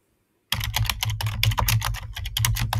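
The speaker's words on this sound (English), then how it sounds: "So if I'm just typing hello, it'll give me a prompt." Rapid typing on a computer keyboard, a dense run of close, crisp key clicks starting abruptly after a brief silence and continuing steadily with no talk.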